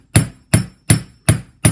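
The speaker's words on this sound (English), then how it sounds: "I take my ball peen hammer, the flat part of the hammer" Five sharp ball peen hammer blows ring out at an even, steady pace, the flat face flattening metal for glass earring and pendant bails, each a bright clang on a solid steel block that quickly decays.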